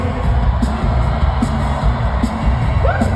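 A loud concert crowd right at the front of the stage at a Supercharged Worldwide Tour show, a steady dense roar with periodic bursts of cheering close by.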